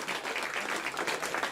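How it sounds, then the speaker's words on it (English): Applause erupting in the control room at the Jet Propulsion Laboratory after signal from the Europa Clipper spacecraft, a steady, fairly distant wash of many hands clapping together. "In the room there at the Jet Propulsion Laboratory erupting in applause"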